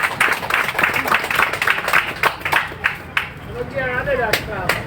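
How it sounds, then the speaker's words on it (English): An audience at a Universal Service Fund event with the Prime Minister breaks into steady clapping, with scattered sharp claps over crowd noise; a voice speaks near the end. "Give somebody a round of applause."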